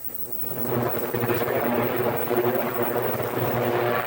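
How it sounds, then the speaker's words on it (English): A steady low engine drone with rhythmic rotor-like throbbing, a helicopter passing at moderate distance, continuous and fairly loud throughout. "I hear a helicopter"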